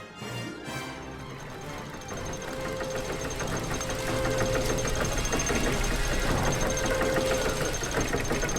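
A machine's engine in The Book of Unwritten Tales 2 knocks and rumbles with a steady mechanical drone that builds in loudness and holds, joined by a faint rhythmic rattle and a high whine.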